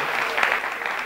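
Steady applause from an audience clapping together, dense and continuous for the whole moment with no gaps, at a market gathering in Jerusalem during the Jewish birthday of the trees.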